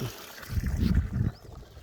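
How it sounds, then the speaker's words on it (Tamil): Water gushing from a 5HP AC borewell motor pump on a farm near a forest area in Dharmapuri district, a short, faint burst of flowing water that swells and fades within a second. "நல்லாவே போயிட்டுருக்கு தண்ணி மீடியமான ப்ரெஷரில்"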